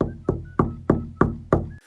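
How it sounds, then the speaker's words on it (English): Knocks on a back door at night, six sharp hollow raps spaced evenly about a third of a second apart, close and fairly loud, with a brief faint scrape after the last. "Then a single knock on the back door."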